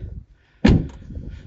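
A car door shuts with a single firm, close thud, followed by a low muffled rumble inside the vehicle.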